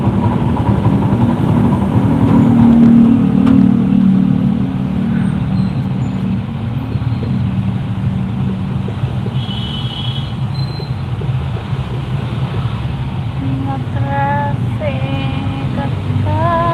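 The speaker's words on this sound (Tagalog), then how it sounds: "Traffic." Busy street traffic with cars, motorcycles and tricycle engines rumbling steadily close by, a continuous loud low drone with occasional horn-like tones and faint voices underneath.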